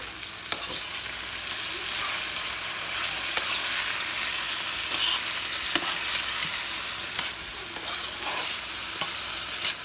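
Chopped bitter gourd and potato fry in a pan with a loud, steady sizzle, broken by occasional clicks of a utensil stirring.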